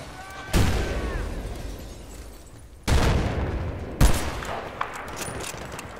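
Gunfire in the video game Battlefield Bad Company 2, with three sharp bursts of shots and explosive booms, each decaying into a rumbling tail, separated by brief lulls.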